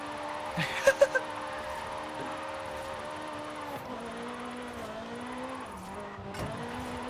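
Electric car drifting with the handbrake in Forza Horizon 5, a steady whining electric motor tone that bends and dips as the car slides, with faint tire noise and someone talking over it.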